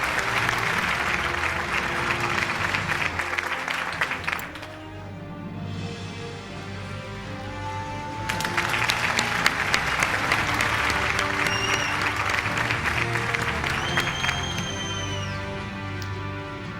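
Audience at a news network's annual award show breaking into sustained applause, dense and loud throughout with a short dip in the middle before the clapping swells again.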